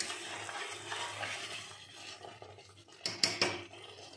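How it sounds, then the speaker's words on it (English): Spoon stirring mutton korma in a pan, the oil separated from the spiced gravy, gives soft scraping and faint sizzle, with a couple of sharper clinks near the end. "Mix it well. You can see that the oil got separated."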